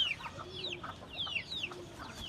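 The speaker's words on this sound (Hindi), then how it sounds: "ये मुर्गी बहुत ज़्यादा डेंजर हो गई है" A hen at a small mini zoo clucks repeatedly in quick, uneven bursts, close and fairly loud, with other fowl sounds mixed in and no one talking.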